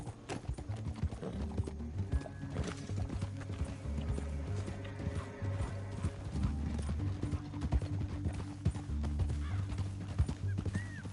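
Horse hooves clip-clop in a steady rhythm with creaking and a whinny in the video game Red Dead Redemption 2, over a low background drone, moderately loud.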